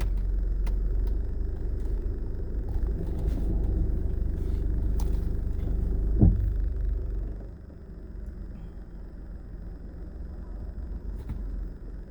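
A car drives along a road during a tornado aftermath, a steady low engine rumble and road noise from inside the vehicle that eases off after a single sharp thump midway.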